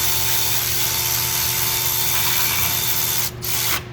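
A power tool tightens bolts on a Ford 6.7 diesel engine, whirring loudly and steadily, then stopping and restarting briefly near the end, close up with no talking.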